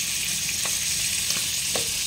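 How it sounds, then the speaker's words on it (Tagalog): Steady sizzling of food frying in a pan, a broad hiss with a few soft clinks of stirring, no talking. "Kunting gisa lang natin"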